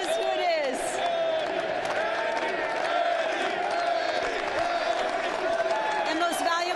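A packed stadium crowd at NLCS Game 6 between the Dodgers and Braves roars and cheers for series MVP Eddie Rosario, a loud, sustained wall of voices with whoops and shouts rising throughout.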